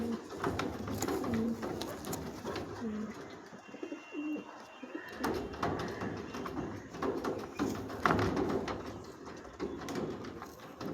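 Racer pigeons coo in low, repeated throaty calls close by, with rustling and handling noise and a brief quieter gap midway.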